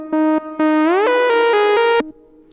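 A bright synth lead in Reason, for a track, plays repeated sustained notes that grow brighter and fuller as the filter opens, gliding up in pitch midway, loud and alone before cutting off.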